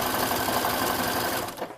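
A sewing machine stitches the front and back V neckline of a gown in a fast, steady mechanical whir of needle strokes close to the mic, briefly stopping at the very end.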